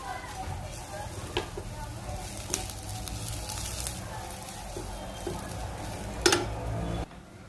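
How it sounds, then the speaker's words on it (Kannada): Ridge gourd peel fries in a spoonful of oil with a steady soft sizzle, punctuated by a few clinks and scrapes of a spoon stirring against the pan, close by. "ಹೀರೆಕಾಯಿ ಸಿಪ್ಪೆ ಹುರ್ಕೊಳ್ಳೋಕ್ಕೆ ಇನ್ನೊಂದು ಸ್ಪೂನ್ ಎಣ್ಣೆ ಹಾಕ್ಕೊಂಡಿದ್ದೀನಿ"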